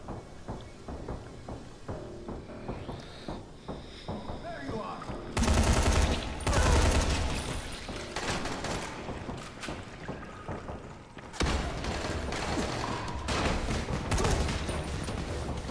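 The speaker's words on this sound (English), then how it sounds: "And let's get the military rifle out." Military rifle fire in the zombie game Dying Light comes in rapid bursts, with loud, dense volleys starting midway and a long sustained burst near the end, heard close over background game noise.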